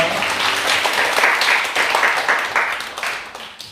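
A congregation claps together during a Korean Sunday worship service. The applause is dense and sustained, with faint speech mixed in.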